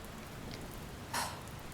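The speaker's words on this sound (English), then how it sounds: "The rain's picked up" Steady rain falls as a soft, continuous hiss, with one brief brighter splash or patter rising out of it, and no voices.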